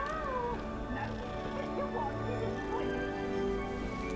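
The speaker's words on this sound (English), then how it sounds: "Oh, it's a cat." A cat meows a few times in the video game Hogwarts Legacy, faint wavering cries set against a steady ambient game soundtrack and low background drone.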